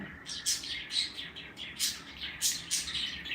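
Lovebirds chirping in quick repeated bursts, several high twittering calls close by over a quiet room background.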